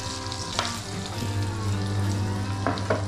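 Ginger sizzling and frying in a hot pan for a marbled stingray dish, a steady crackling sizzle with a couple of brief stirring scrapes, close and fairly loud.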